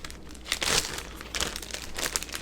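Crinkling plastic bag as a browned roast beef is slipped inside for sous vide, with a loud rustling burst early, then several softer crinkles and rustles close by.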